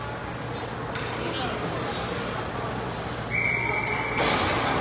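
A referee's whistle sounds in a youth peewee ice hockey scrimmage, one clear sustained tone rising over arena noise and the commentator's voice.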